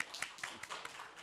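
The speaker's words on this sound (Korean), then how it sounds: "자, 박수." A few people in a church gathering during a night prayer service give a short burst of quick, faint, somewhat distant claps.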